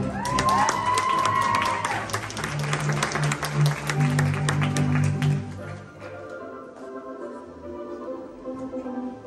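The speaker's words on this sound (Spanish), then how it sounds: "Un fuerte aplauso para ella." Crowd applause at a quinceañera celebration with scattered cheers and a brief whistle, loud for several seconds before thinning out toward the end.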